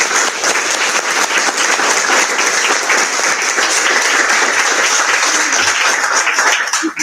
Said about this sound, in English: Want to give them all a round of applause?